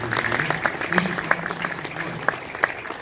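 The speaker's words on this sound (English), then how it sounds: "one more time, a nice round of applause for having come up here" Audience applause for a volunteer leaving the stage at a comedy show, a steady wash of clapping with a few sharper claps standing out, moderately loud.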